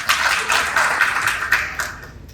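Clapping from a small group indoors, a brief patter of hand claps that fades toward the end.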